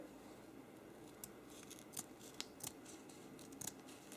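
Scissors snip candle basket material in quiet, sparse strokes, with a few soft separate cuts and faint rustling between them.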